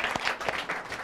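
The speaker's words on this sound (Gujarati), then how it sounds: "તમારા માટે તાળીઓ" Studio audience applause at a Gujarati cooking show, a brief burst of dense clapping at moderate loudness.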